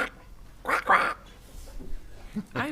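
A voice imitating a duck, giving a few nasal quacks amid speech at a city council meeting, close and fairly loud with pauses between bursts.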